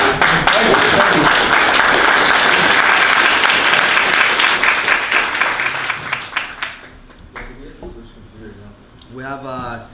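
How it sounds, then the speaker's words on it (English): An audience applauds a presenter at an Amazon FBA sellers' meetup in Vancouver, loud dense clapping that fades out over several seconds, after which a few voices speak quietly in the room. "Round of applause for Tom."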